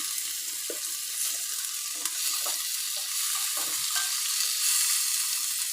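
Chopped tomatoes and onions sauté in a pan with a pinch of salt, a continuous hiss of frying broken by intermittent scraping and stirring strokes, close and fairly loud with no talking.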